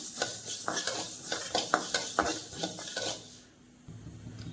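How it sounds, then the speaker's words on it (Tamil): Whole coriander seeds, a quarter kilo, dry roasted in a pan over medium flame, stirred and scraped so the seeds rattle and clatter in bursts against the metal, close and fairly loud, then fading to a low quiet hiss near the end. "இந்த கால் கிலோ மல்லி வந்து மீடியம் ஃப்ளேமில் வச்சு இதை வந்து வறுத்துக்கணும்"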